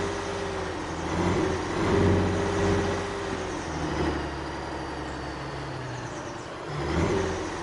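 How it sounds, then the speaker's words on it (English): A truck engine in the video game Alaskan Road Truckers drones steadily at moderate volume, with gentle swells as it revs and shifts and no talking. "It's nice to be able to hear the truck."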